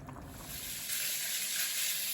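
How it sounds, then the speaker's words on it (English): Fish sizzling in a frying pan in a home kitchen, a steady bright hiss that swells slightly partway through and runs continuously without pause, close and fairly loud with no voices. "we got some fish frying"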